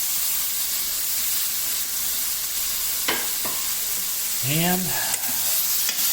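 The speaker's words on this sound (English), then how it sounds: "kind of sear it in a little bit." Seasoned steak sears in a pan with a loud, continuous hiss and crackle, a few utensil taps over it and a brief word spoken near the end.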